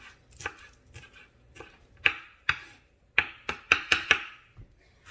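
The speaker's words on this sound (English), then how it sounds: "I'm just finally chopping up some spinach to put into our mixture here" Spinach being chopped with a knife on a cutting board while stuffed chicken is prepared, giving a loose series of sharp, close chops, sparse at first and then quicker in the middle with a few lighter taps at the end.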